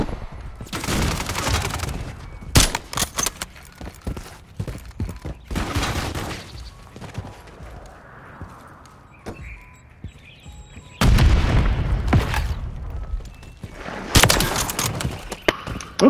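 Kar98k bolt-action sniper rifle fired in a first-person shooter, with several loud, sharp cracks spaced irregularly across the stretch and quieter game noise in the gaps.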